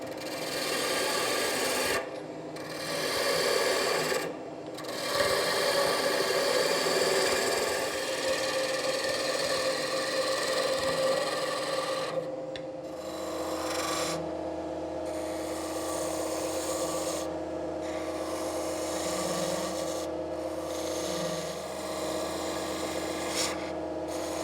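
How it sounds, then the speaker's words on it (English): A wood lathe gouge cuts a taper on a nightstand leg, giving a continuous raspy scraping whir that drops out briefly at intervals, with the motor's steady hum underneath. "I'm going to switch from the parting tool back to the gouge to make that taper"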